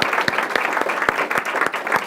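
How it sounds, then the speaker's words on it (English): Audience applause after an evening talk, a steady crowd of clapping hands with dense, even texture and a few sharper claps standing out, continuous and fairly loud throughout. "Let's give a round of applause."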